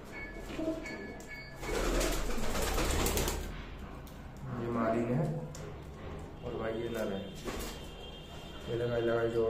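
A male and female pair of pigeons, kept by a Punjabi pigeon fancier, coo in soft low bursts at close range, heard under continuous talk from a man nearby.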